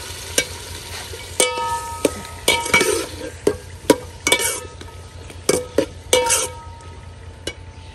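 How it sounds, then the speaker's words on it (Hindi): Onions, tomatoes and chilies fry in hot oil, a steady sizzle broken by repeated sharp scrapes and clinks of a spoon stirring against the pan, close and fairly loud. "प्याज टमाटर मिर्चों अच्छी तरह फ्राई कर दी हैं"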